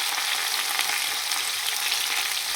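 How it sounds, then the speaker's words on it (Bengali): Capsicum, tomato and onion added to fried garlic in a hot pan, with a little salt, crackling in a steady, bright sizzle without any voices. "রসুনটাকে ফ্রাই করে নিয়ে এখন দিয়ে দিচ্ছি ক্যাপসিকাম, টমেটো আর হচ্ছে পেঁয়াজ"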